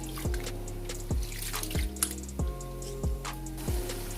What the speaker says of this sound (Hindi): ये चावल इनको अच्छे से धो लेते हैं।